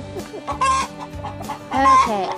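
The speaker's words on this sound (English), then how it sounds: "now my chickens are going crazy." Farm chickens cluck loudly and excitedly nearby, with drawn-out squawking calls and a rooster-like crow rising twice over the busy clucking.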